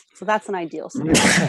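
A sneeze bursts out right after a short stretch of close-up talk, loud and breathy, recorded during a live podcast.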